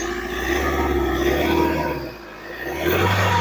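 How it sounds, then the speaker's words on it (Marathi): A running Mahindra Scorpio engine idles and is revved, giving a steady loud droning roar close by that dips briefly, then rises again at the end. "थोडी रेस करा"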